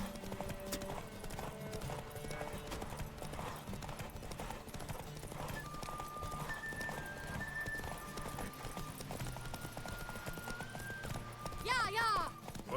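A horse gallops in The Witcher 3, a steady run of clip-clop hoofbeats heard over game music. A voice talks over it, and near the end the horse neighs briefly.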